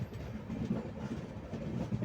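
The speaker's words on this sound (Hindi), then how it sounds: "और उसमें एल्को लोकोमोटिव लगा हुआ है।" Train hauled by an ALCO diesel locomotive at Dehradun terminal railway station, a steady low rumble with faint rhythmic rail clatter running continuously at moderate distance, no talk.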